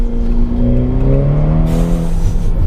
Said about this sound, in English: So we're in second now, third, fourth, and you're compelled again to shift back down, and now we're into second.